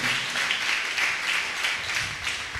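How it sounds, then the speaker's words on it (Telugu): A church congregation clapping together, a steady rhythmic patter of many hands at moderate distance, continuous through the moment without talk. "చప్పట్లు కొట్టేసే నామాన్ని ఘనపరుద్దాం."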